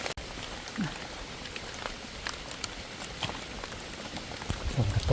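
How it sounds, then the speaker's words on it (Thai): Steady rain patters across a surface in a forest while picking wild mushrooms, with scattered drops tapping close by and a soft continuous hiss throughout. "ถูกฝนถูกน้ำ"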